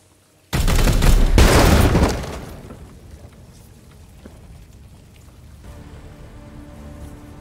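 Gunfire in Chaos Gate: Daemonhunters erupts as a loud, dense burst of rapid shots lasting about a second and a half, then gives way to a quieter, rumbling battlefield backdrop.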